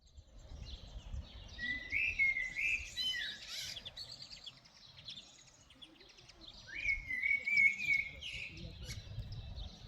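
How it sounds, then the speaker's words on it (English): Small birds chirp and trill outdoors along a rural walking route in northern Spain near Villafranca Montes de Oca, two clear bursts of song at moderate distance over low rustling background noise. "The birds are out and I'm loving it."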